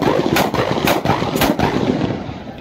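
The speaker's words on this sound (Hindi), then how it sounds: "दोस्तों आप देख सकते हो ये पटाखे बजा रहे हैं" Firecrackers set off at a Chhath Puja celebration by the Kosi river burst in three loud, sharp bangs about half a second apart, close by, then fade into a crowd-like hum.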